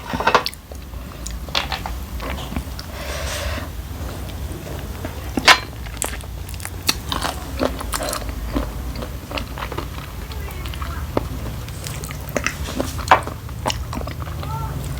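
Someone eats a spicy Thai chicken feet salad with the bones left in, giving soft crunching and chewing bites close to the mic, with someone speaking intermittently over the eating.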